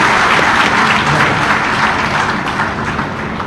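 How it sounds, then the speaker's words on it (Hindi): Audience applause honoring rescue teams at a Chhattisgarh ceremony, a dense, loud wash of many hands clapping that holds steady throughout and eases slightly toward the end, with no talk over it. "इसके लिए भी तालियां बजनी चाहिए।"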